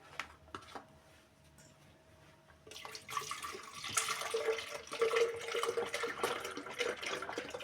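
After a few soft clinks, half a litre of milk pours steadily into a blender close by, with a bubbly, splashing stream that continues to the end.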